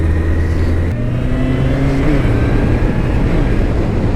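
Honda CB1100 motorcycle accelerating hard on a test ride, a loud, close engine drone with a gear change near the start and then rising pitch, accompanied by wind rush and no talking.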